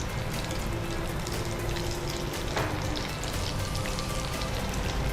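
Bird's nest lava idli frying in hot oil, a steady close hiss and crackle of sizzling batter that runs evenly throughout with no talk over it.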